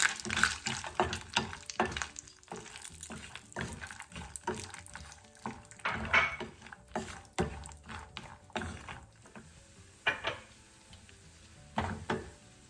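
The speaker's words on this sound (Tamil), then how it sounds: "இந்த பட்டர் எல்லாம் நெய்யோடு சேர்ந்து எல்லாம் கொதிச்சுட்டு இதுக்குள்ளே நாங்கள் இந்த எடுத்துருக்கிற முந்திரியை பருப்பை போட்டுக்கொள்வோம்" Cashews fry in boiling ghee and melted butter for rava laddu, giving a close, uneven bubbling and sputtering with irregular bursts of crackle and stirring noises over about thirteen seconds, with no voices.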